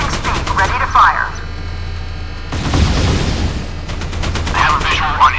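Naval gunfire in the Modern Warships video game, aboard the USS Hurricane: a loud burst of cannon fire rumbles amid steady engine and ambient battle noise, with bursts of other game effects before and after.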